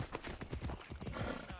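Horse hooves clop in the video game Assassin's Creed Odyssey, a quick run of close, rhythmic thuds over a short span with a faint whinny-like tone mixed in.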